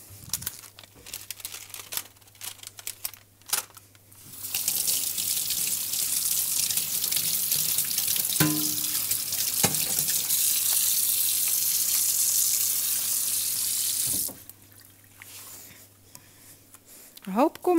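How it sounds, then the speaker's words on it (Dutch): Fresh blackberries rinsed under a running kitchen tap: a steady rush of water into a sink for about ten seconds, bracketed by handling clatter and faint rustling before and after. "Die bramen spoel ik nog even kort af onder het water"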